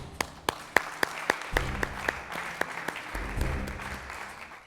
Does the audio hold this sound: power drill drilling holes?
no